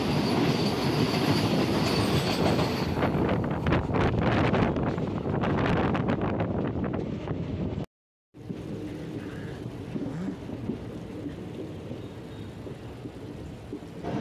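The Ajanta Express runs from Kacheguda toward Manmad and crosses a MEMU express, with a loud, dense rumble and rattle of wheels and carriages close by. A brief dropout breaks it midway before the heavy running noise resumes.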